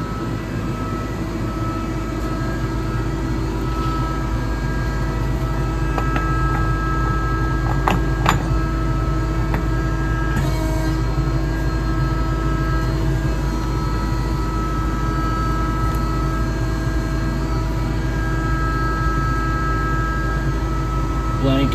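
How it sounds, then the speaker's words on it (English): CNC lathe machining aluminum wheel adapters for an electric mini kei truck, a steady mechanical drone and hum with a few brief sharper clicks, continuous and fairly loud throughout. "I'm gonna load the program in the lathe, and then we're gonna start machining up these wheel adapters."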